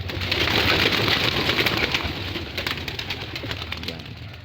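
Pigeons being released for a morning flight give off soft cooing over a burst of flapping wings, loud and close at first, then easing off.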